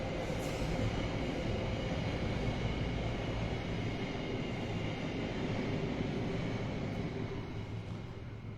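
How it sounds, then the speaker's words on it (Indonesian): A train rolls past and fills the clip with a steady, loud broadband rumble and rail roar that fades slightly near the end, with no speech over it. "Ya ada iklan kereta dulu ya."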